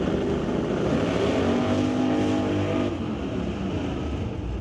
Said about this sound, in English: Sporting 540 cubic inches, a big block Chevy underneath the hood of the 70 Nova.